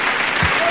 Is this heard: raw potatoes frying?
no